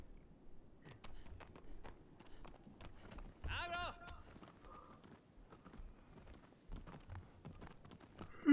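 A horse gallops in the Shadow of the Colossus remake video game with quick, faint, rhythmic hoofbeats, and someone briefly speaks partway through.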